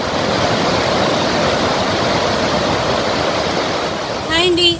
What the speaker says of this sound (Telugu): ప్రజెంట్ ఇప్పుడు స్పిల్వేలోంచి వాటర్ వస్తున్నాయి